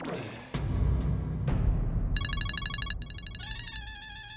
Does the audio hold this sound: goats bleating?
no